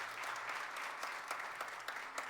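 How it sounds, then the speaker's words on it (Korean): A church congregation claps together during a worship service, a steady dense applause held for a couple of seconds with a few sharper claps standing out. "박수로 한번 축하 격려하겠습니다."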